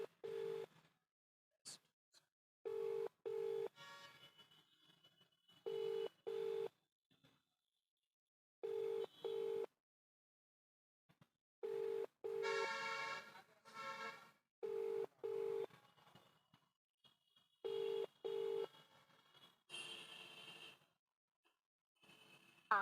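Telephone keypad tones and call signals sound in short bursts, a quiet irregular sequence of beeps with long silent gaps, as a call is placed to a local government official.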